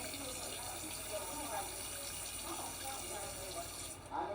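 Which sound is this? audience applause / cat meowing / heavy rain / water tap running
water tap running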